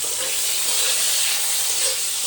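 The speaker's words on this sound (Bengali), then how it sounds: "ভাজাভুজি চলছে।" Food fries for a ritual offering during the Rath Yatra festival, giving off a close, steady sizzle with no voices over it.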